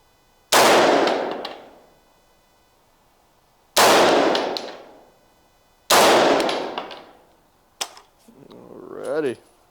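Three loud, spaced gunshots from a custom 300 Blackout rifle during test firing, each with a long decaying tail, followed by a short click and a brief voice.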